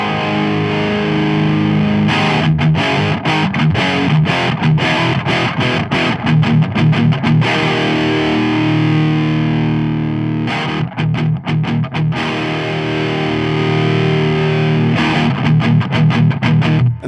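An electric guitar played through a Marshall JCM800 distortion pedal with gain and sensitivity turned fully up produces thick, harmonically rich distorted chords and chugging riffs, loud and sustained with brief choppy stops, and no talking.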